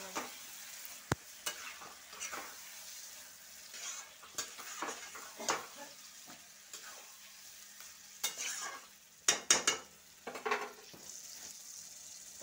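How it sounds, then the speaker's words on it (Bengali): Mutton pieces are stirred into a spice masala already cooked down in a pan, giving soft sizzling under irregular scrapes and clinks of a spoon against metal, close up with no speech. "তো এর মধ্যে আমি মাংসগুলো দিয়ে দেবো। ভালো করে মিক্স করে নেবো।"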